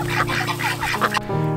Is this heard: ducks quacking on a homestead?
yes